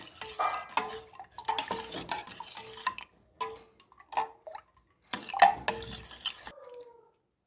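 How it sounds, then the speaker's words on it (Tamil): A spoon stirs tender coconut payasam after ghee-fried cashews and raisins go in, with soft wet swishing and light clinks against the vessel in short bursts, close and fairly quiet, ending in silence. "நெய்யில் வறுத்து வச்சுக்கிற முந்திரி திராட்சையை சேர்த்திக்கலாம். நல்லா கலக்கி விட்டுக்கலாம்."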